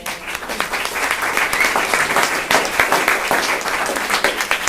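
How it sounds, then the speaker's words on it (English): Dense, steady applause from an audience at a community forum on homelessness in West Anaheim, honoring public safety officers, sustained and fairly loud throughout with no clear talk over it. "I want to give them a real clap right now."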